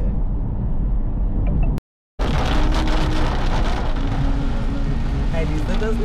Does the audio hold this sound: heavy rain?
yes